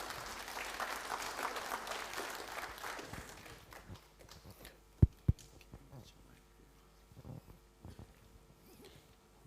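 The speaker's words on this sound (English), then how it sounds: "just to give him a round of applause" A crowd at a university entrepreneurial fair gives a round of applause, dense clapping filling the first few seconds before thinning into scattered claps, a couple of sharp knocks and quiet room noise.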